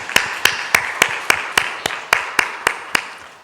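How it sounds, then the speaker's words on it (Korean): A church congregation at a Sunday worship service applauds in thanks, the claps landing in a steady, evenly spaced rhythm of about a dozen sharp, fairly close beats with no talk over them. "이들을 위해서 감사의 박수 한번 하겠습니다"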